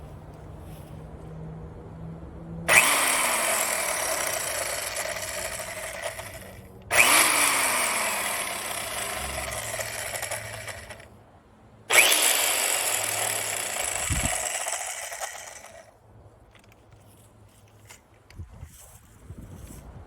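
A WORX 10-inch electric chainsaw runs in three bursts of several seconds each, whining loudly as it cuts into wood, with quiet pauses between.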